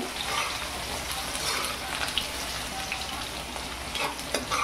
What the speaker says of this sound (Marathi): त्याला तळून घ्यायचं आहे एकदम कडक, थोडा थोडा करून